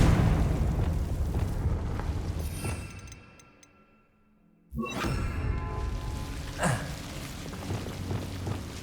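In the Hogwarts Legacy video game, a Confringo spell goes off as a booming explosion with a whooshing burst, fading to near silence before a second loud eruption and crackling debris follow.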